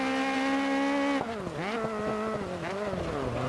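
A Fiat 131 Abarth rally car in Dirt Rally 2.0, on an Australian stage, holds a loud steady engine note, then its pitch drops and rises sharply through shifts and lifts, with a strained high whine throughout.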